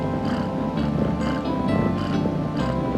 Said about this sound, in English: now you could hear him purr a mile away